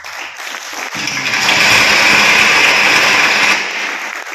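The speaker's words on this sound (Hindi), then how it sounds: "ये ताली सही है।" A burst of dense applause swells up, holds strong for a couple of seconds, then eases off.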